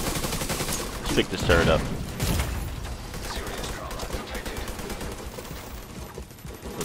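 Dense, continuous automatic gunfire and turret fire from The Division 2, rattling steadily across the whole stretch, with someone speaking briefly over the shooting.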